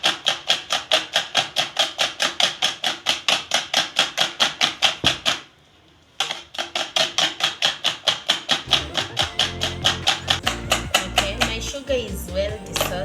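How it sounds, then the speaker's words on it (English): Whisk beating sugar into eggs for a red velvet cake batter, a fast, regular clacking rhythm against the bowl that pauses briefly midway and then resumes. "I'll mix until the sugar dissolves into the egg mixture."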